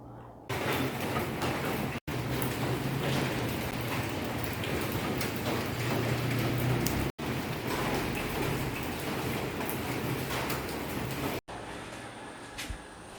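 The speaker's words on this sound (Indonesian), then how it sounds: "Nah, hujannya awet banget ya." Steady rain falling for a long stretch, a dense, even hiss of drops with no breaks apart from a couple of short cuts, nothing else standing out.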